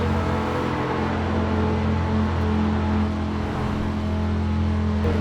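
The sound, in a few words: Audi R8 V10 Plus engine in sixth gear, Forza video game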